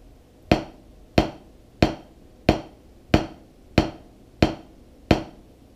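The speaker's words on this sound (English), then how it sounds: "So if I play eight right full strokes," Eight evenly spaced full strokes of a drumstick land one after another, each a crisp, close, moderately loud hit with a short decay.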